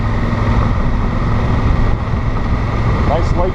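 Steady engine drone and wind roar from a Honda Africa Twin adventure motorcycle riding on gravel, loud and continuous throughout, with brief faint chirps near the end.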